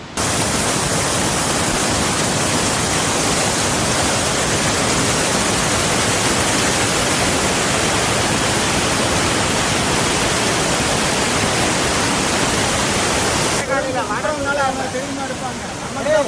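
Thalaiyar waterfall, a tall remote falls in Tamil Nadu, roars as a loud, steady broadband rush of falling water that fills the whole clip, easing slightly near the end as faint voices emerge.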